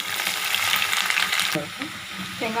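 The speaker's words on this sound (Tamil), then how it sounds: "1/4 டீஸ்பூன் கடுகு, கொஞ்சமாக சோம்பு, கொஞ்சம் ஃப்ரை ஆகட்டும்." Mustard seeds and fennel crackling in hot oil with onion in a pan: a loud, bright sizzle that drops away halfway through, followed by softer frying and a brief faint voice-like sound.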